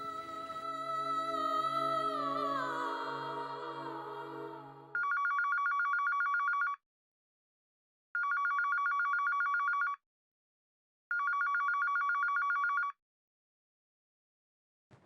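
A telephone rings in three loud, steady bursts of electronic trilling, each about two seconds long with short silent gaps between them, following a stretch of tonal background music.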